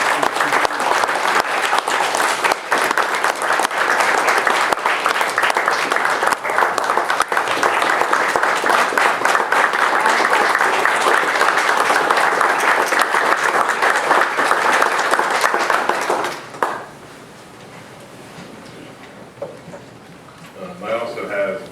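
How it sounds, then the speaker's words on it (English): A township council meeting audience breaks into a loud, sustained round of clapping lasting about sixteen seconds, then it stops abruptly, leaving quiet room noise and a few faint sounds. "Everyone would join me in a big round of applause."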